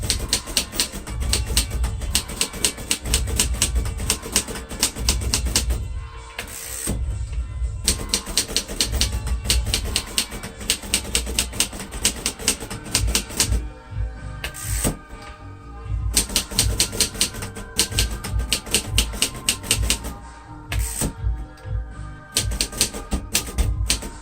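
Typing on a 1941 Royal Companion manual typewriter, dense rapid key strikes clattering close and loud, with brief pauses and carriage sounds breaking the steady rhythm.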